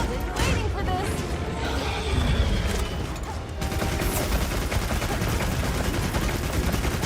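Gunfire in Monster Hunter pummels a monster: dense, loud, rapid shots and mechanical clatter running continuously at close range, with a brief louder crash partway through.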